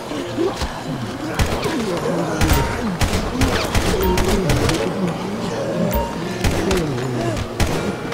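Rapid gunfire in a GTA 5 zombie survival mod, dense bursts of shots landing headshots on zombies, loud and continuous over game music and ambience with no talk.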